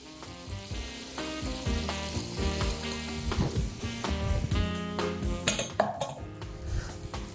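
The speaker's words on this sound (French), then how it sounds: "je vais maintenant ajouter les oignons à l'intérieur de ma qadra" Onions frying with spices in a qadra pot, a close, steady sizzle punctuated by metal utensil clinks and scraping against the pot, with no talking.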